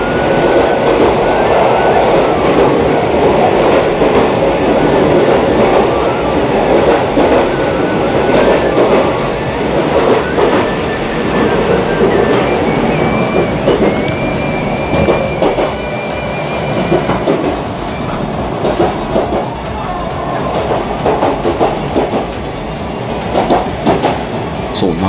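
An Iida Line limited express Inaji train runs through a remote mountain section, heard from inside the car as a steady, loud rumble of wheels and motors with faint rhythmic rail clicks throughout.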